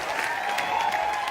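A rally audience applauds and cheers, a steady dense wash of clapping with crowd noise that holds at even volume throughout, with no talking over it.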